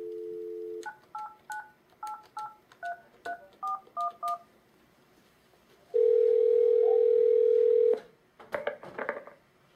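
An office desk phone gives a steady dial tone, then a quick sequence of about a dozen crisp DTMF keypad beeps, followed by a long unbroken tone and a few more scattered beeps, with no talking.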